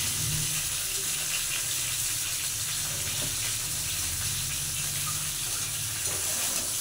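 Potatoes and cauliflower fry in a pan with chopped onion added, a steady close sizzle and hiss running unbroken throughout with no talking.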